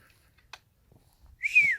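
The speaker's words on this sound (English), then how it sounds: "I just heard a whistle." A single short, high whistle rises and falls near the end, clear against an otherwise quiet background with a faint click earlier.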